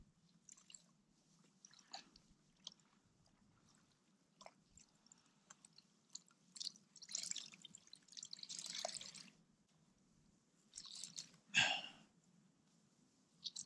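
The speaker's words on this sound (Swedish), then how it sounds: "Så nu är det dags att få försöka svabba upp lite kläder här och torka på ryggsäcken." Clothes being hand-washed and wrung out outdoors on a self-sufficient trek in Svalbard, with scattered water drips and splashes in irregular bursts, one louder splash near the end, over a low steady background hum; no talking.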